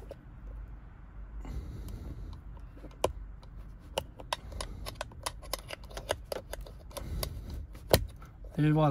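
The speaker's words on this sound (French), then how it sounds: "on va appuyer sur le clips et il va sortir, tout simplement" Plastic clips on a Tesla interior trim piece give a series of sharp close clicks and snaps as they are pressed and pulled, irregular and spaced out, with a person speaking briefly at the end.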